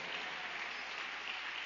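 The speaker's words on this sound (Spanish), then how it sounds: "Denle un aplauso al Señor de gozo." A church congregation claps during a Spanish-language service, a steady, moderately quiet patter of many hands running throughout with no voices over it.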